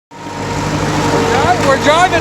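A tractor drives along carrying a three-point carry-all buck rake, its steady engine rumble close and continuous while people talk over it.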